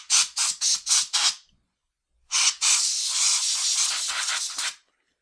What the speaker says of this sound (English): And then I like to use some compressed air in order to get any excess moisture out.